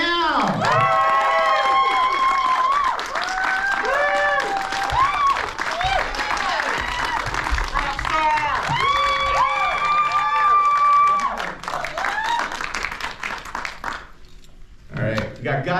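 An audience at a Cult Classics screening Q&A claps and cheers loudly for the director of Dinner in America, with whoops and shouts over dense applause that fades near the end, then a voice speaks.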